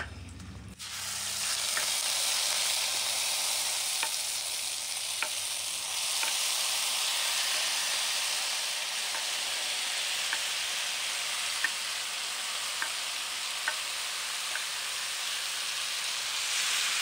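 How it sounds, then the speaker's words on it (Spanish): Tomato salsa fries in a hot pan with a steady, close hiss of sizzling oil, with faint pops and ticks scattered through it and no voices. "Aquí vamos a esperar a que la salsa se fría."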